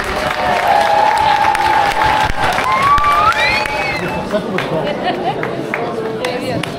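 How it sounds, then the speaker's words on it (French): Audience at a retro festival in a small French town claps and cheers in a sustained burst, with a crowd murmuring and a voice speaking over the applause before it fades. "Et on applaudit très fort"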